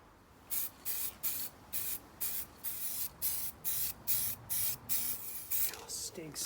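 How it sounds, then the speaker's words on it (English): Aerosol spray paint hisses onto a stainless steel exhaust resting on wood, in about a dozen short, evenly spaced bursts, close and loud. "I'm going to spray the other side while it's still resting on the wood."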